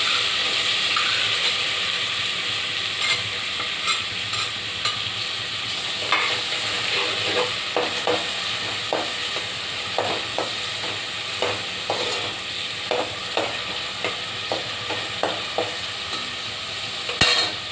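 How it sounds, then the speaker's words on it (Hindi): Onions fry in hot oil with cumin seeds, a constant loud sizzle and hiss with repeated scraping stirs from a spoon in the pan, close up and without talk. "हमारा ज़ीरा हो गया है तो इसके अंदर मैं प्याज को फ्राई करूँगी।"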